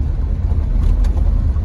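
Toyota Fortuner engine laboring at low speed over a rough, stony Spiti mountain road in the rain, a steady loud low rumble close by with no talk.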